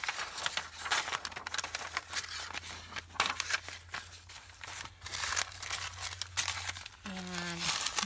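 Paper being crinkled and handled while assembling a junk journal, a dense papery rustle with soft crackles running steadily throughout at close range, faint voices in the background.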